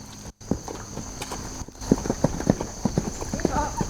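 A horse lopes over soft ground, its hooves thudding in a steady three-beat rhythm that grows louder and closer through the second half, with a person's voice mixed in.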